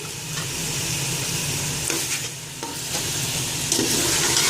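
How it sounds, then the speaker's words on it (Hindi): Goat head and trotters being fried and stirred in a pot for Pakistani siri paye, with a steady sizzle and occasional scraping knocks of the spoon against the metal, close and continuous throughout. "और इसको अच्छी तरह से भून लूंगी।"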